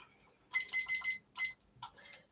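A timer being set makes a short series of bright electronic beeps and chirps in quick clusters, close and clear with nothing talking over it.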